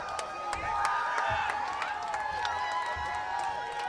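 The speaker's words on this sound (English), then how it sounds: "The crowd now seriously getting into it on the North Middlesex side." Football crowd cheering for North Middlesex at a Grafton game, a steady broad roar of voices with whistles and shouts carrying across the field, sustained throughout.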